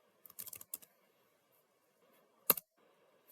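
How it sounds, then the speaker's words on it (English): Computer keyboard typing a short terminal command: a quick burst of several clicky keystrokes, a pause, then one firm sharper keypress like Enter, close and alone in a quiet room. "Let's open a terminal and write Python"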